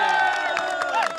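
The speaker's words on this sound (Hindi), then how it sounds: "जोरदार तालियां बजाओ अपने लिए।" Crowd at an outdoor political gathering in India cheering and clapping, a loud mix of shouts and whistles with voices calling out over a short, dense burst.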